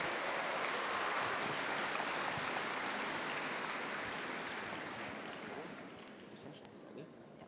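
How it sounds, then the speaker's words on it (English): Graduation ceremony crowd applauding, a dense wash of clapping that stays steady and loud before slowly thinning out toward the end. "Let's give Russell a big round of applause"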